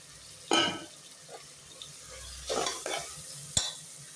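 Masala for mutton biryani is stirred and fried in a pan, a few scraping stirs and short sizzling bursts over a quiet background, no speech.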